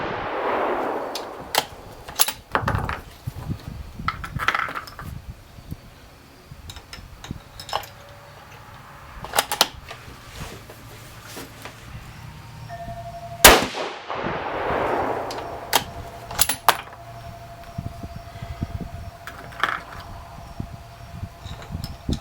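Rifle shots from a 6.5 Creedmoor fired outdoors, a few sharp, distant-sounding cracks spaced several seconds apart among faint handling clicks and background noise.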